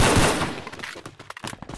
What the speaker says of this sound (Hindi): और ये पीछे से गोली चलते हुए